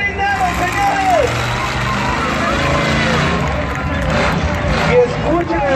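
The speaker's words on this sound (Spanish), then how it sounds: "Y escuchen el rugir de ese motor." The Green Demon monster truck's engine gives a loud, sustained rumble with shifting revs at a Monster Truck México 2017 show, heard under a crowd's hubbub and an announcer's excited commentary.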